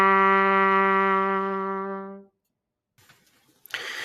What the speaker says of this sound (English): The low A on the trumpet sounds like this.